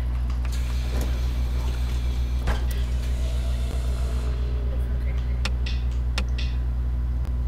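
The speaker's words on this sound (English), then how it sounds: "Then start the engine." A low, steady bus engine drone in a bus simulator video game runs throughout with a few mechanical clunks and clicks on top, while someone speaks over it.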